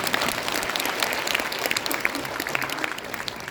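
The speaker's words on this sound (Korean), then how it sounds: "박수 한번 주시겠어요?" Audience at a blockchain investment conference at COEX applauding, dense continuous clapping from a crowd filling the short stretch, fairly loud and even with no talk over it.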